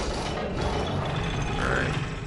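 A mechanical elevator in the video game Bloodborne grinds and clanks continuously, with ratcheting gear and creaking machinery sounds filling the short stretch at close range.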